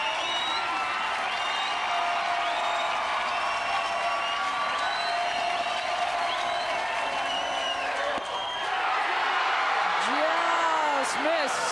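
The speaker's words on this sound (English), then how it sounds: "That'll allow the crowd to get going once again as Dedmon steps in." A softball stadium crowd at a Women's College World Series game cheering, clapping and chanting in a sustained roar, with a commentator talking over it.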